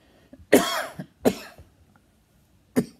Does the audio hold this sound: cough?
yes